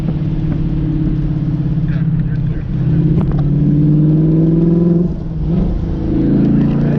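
Drift car engine at Speed Vegas in Las Vegas rumbles and revs steadily from inside the car during a ride along, a loud, continuous droning growl with rising and falling pitch, with occasional voices over it.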